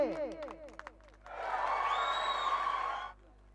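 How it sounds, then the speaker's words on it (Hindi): Spectators applaud at a local cricket match in the Dighi Kolivada Premier League after a century, with a loud, dense burst of clapping and cheering lasting about two seconds after a voice speaks. "परेश 11 का जोरदार ताली होनी चाहिए।"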